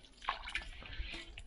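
Water splashes and drips while a pot is washed during preparation of Monpa local alcohol (arra, banchang), soft close sloshing with a few sharper splashes, no talk.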